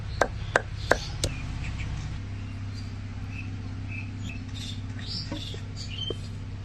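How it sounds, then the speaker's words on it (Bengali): Coriander leaves are crushed in a kitchen for a plum and tamarind mash, a few sharp knocks at the start and then soft faint crunching over a low steady hum. "দিয়ে দেবো আমাদের দেশি ধনে পাতা ধনে পাতাটাও ছেঁচে নেব"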